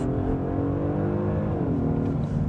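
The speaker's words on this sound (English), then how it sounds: "Launches hard with all-wheel drive as well." A 2025 Genesis G80 3.5T Sport with all-wheel drive launches under launch control, its engine droning loud and steady as it pulls, with one audible upshift dip near the end.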